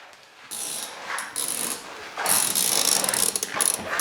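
A ratchet loosening a spark plug on a Porsche Macan, with bursts of rapid close clicking, the longest and loudest toward the end, in a quiet workshop with no talk.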